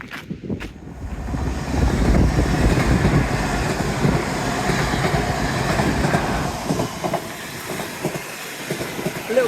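A passenger train with carriages rolls past nearby, giving a sustained rumbling roar with rhythmic clickety-clack from the wheels over roughly nine seconds, swelling and slowly fading.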